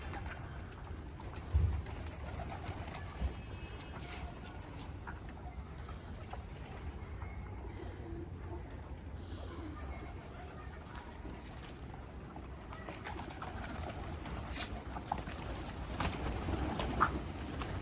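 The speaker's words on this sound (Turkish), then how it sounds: "Atmaca değil o güvercin." Outdoor ambience with a few brief pigeon sounds over a steady background rumble and occasional faint voices.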